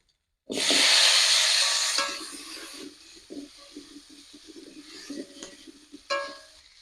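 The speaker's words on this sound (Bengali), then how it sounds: "আদা বাটা ভেজে নিয়েছি এবার আম কাটাগুলো দিয়ে দিলাম" Raw green mango pieces drop into a pan of fried ginger paste and hot oil with a sudden loud hiss that fades over a couple of seconds, followed by quieter sizzling and scattered stirring scrapes nearby.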